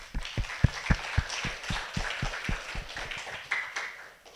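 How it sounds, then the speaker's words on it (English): Scattered applause from a university lecture audience, with distinct individual claps ringing out in a loose, uneven rhythm over a murmuring room, fairly faint and distant. "and big applause for all the women here"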